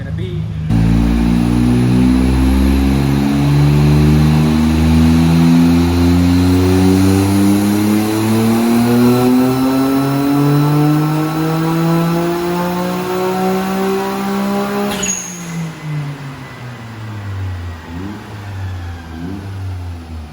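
A Suzuki Cappuccino's small engine revs steadily upward on a dynamometer, its pitch climbing for about fifteen seconds before it cuts back and drops to a lower idle, loud and close.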